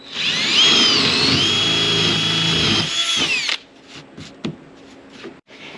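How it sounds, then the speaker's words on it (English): A power drill whines loudly and steadily for about three seconds while drilling through a wall, then stops, leaving soft clicks and handling sounds. "Now we're going to go through that same hole and drill through the wall."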